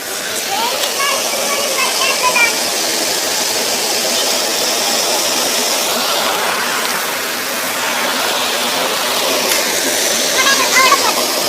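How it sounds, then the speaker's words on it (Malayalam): Water from a stream pours down like a small waterfall, a steady broadband rushing that stays loud and close and continues unbroken throughout. "അങ്ങനെ തോടി ഇവിടെ ഒരു വെള്ളച്ചാട്ടം പോലെ എത്തുന്നു"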